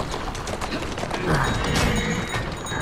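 Horse galloping through London streets in Assassin's Creed Syndicate, a rapid, continuous patter of hooves on hard ground, fairly close and steady, with a brief swell of noise midway.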